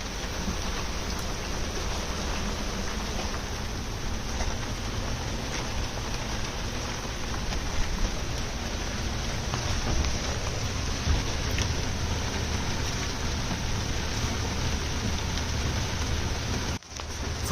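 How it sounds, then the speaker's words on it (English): Heavy summer rain pours down onto a sailboat moored in Washington, a dense, steady roar of drops drumming on the deck and surfaces without a break, close and constant throughout. "it is late July, and it is bucketing down!"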